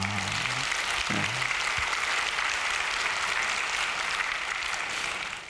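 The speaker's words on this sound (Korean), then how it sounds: "하나님께 박수합시다." A church congregation claps together in praise during a Korean worship sermon, a dense, even wash of applause holding steady for several seconds before easing off at the end.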